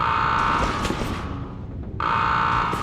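A loud electronic alarm siren from a PS1 stealth game sounds as enemies call for backup, a buzzing tone that cuts out for about half a second and then resumes.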